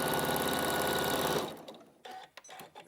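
A sewing machine stitches quilt fabric in a fast, loud, steady run that stops after about a second and a half, followed by a few quieter clicks and handling sounds.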